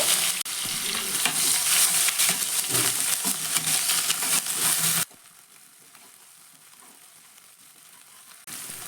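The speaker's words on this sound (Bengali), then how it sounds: "প্রথমেই বেটে রাখা পেঁয়াজ আর লঙ্কাটাকে কিন্তু আমি ভালো করে আগে ভেজে নেব" Ground onion and chili paste fries in hot oil with a loud, dense sizzle and stirring scrapes for about five seconds, then drops abruptly to a much quieter simmer before the sizzle rises again at the end.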